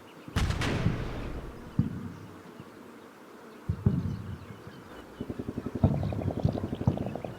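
Mortar fire in the video game Combat Mission Fortress Italy, with 60mm mortar teams firing a few heavy booming shots spaced apart, followed later by a rapid rattling string of impacts or gunfire amid a droning, buzzing battlefield background.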